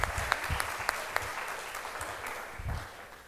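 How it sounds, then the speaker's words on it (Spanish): An audience at an academic conference applauds for the Gender Institute's fifth anniversary, steady clapping from many hands with a few sharper close claps, gradually tapering. "aplauso para el Instituto de Género también"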